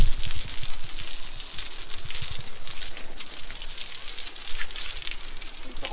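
Hot water from a hose spraying across patio flooring in a dog pen, a close, steady hissing splatter with shifting intensity as the stream moves over the surface, no talking.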